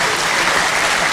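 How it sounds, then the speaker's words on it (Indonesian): Loud audience applause during a sermon at a mosque Isra Miraj commemoration, a thick continuous wash of clapping from a large crowd, brief and steady. "tepuk tangan sing banter kok"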